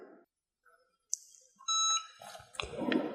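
A heat press timer beeps for about a third of a second amid scattered clicks and handling noises, followed by a rustling thump.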